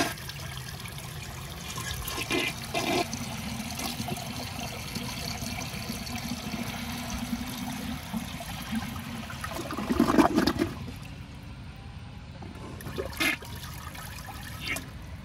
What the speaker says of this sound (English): That's how easy this toilet is to siphon out.